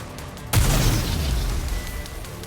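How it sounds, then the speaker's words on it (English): Homemade explosives blow up in the shooter game Nikke: Goddess of Victory, a single sudden loud blast followed by a long rumbling, crackling roar that slowly fades, with no talking. "What are those? Explosives? They appear to be homemade. The explosions aren't stable."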